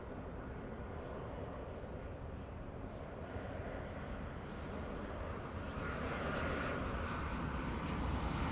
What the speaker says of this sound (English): We have an E175 on the move.